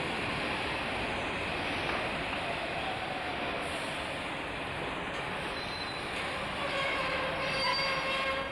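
A passenger train on the Leeds to Morecambe line rumbles past close by, a continuous heavy roar with wheels squealing on the rails as it goes.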